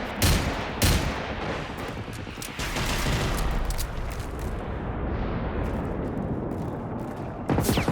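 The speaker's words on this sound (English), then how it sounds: "Wow, those bullets are actually hitting that tank." Rapid pistol fire striking metal tanks during a base defence fight in the video game Generation Zero, a dense, continuous burst of shots and impacts with a few sharper cracks standing out, loud and close.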